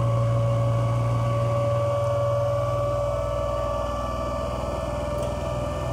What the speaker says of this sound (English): we can clearly observe that the motor is running.